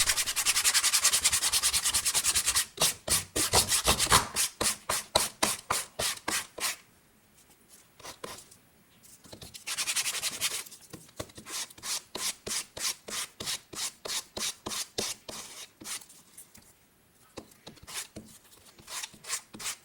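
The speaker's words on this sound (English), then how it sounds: "the sandpaper just makes it so you've got a nice edge to stain to" Sandpaper rasps in quick back-and-forth strokes against a leather edge, a close, rhythmic scratching with a short pause partway, no voices.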